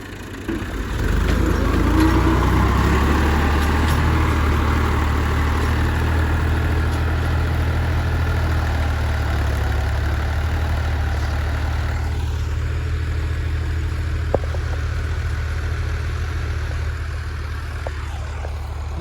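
A tractor stands in a farm field with its engine running, a loud, steady low diesel drone that holds unchanged for the full stretch with no talking.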